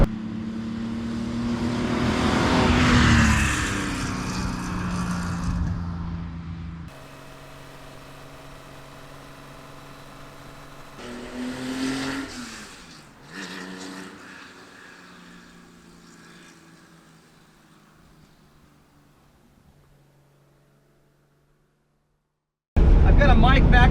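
A 1972 Porsche 911 E with a short-stroke 3.2 engine revs hard while driving, rising and falling through the gears, then settles to a steadier drone before cutting off and returning loud at the end.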